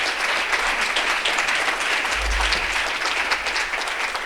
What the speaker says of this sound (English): I think we should give them a round of applause for their vision.